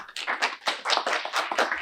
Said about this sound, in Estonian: teeme Svennile ühe aplausi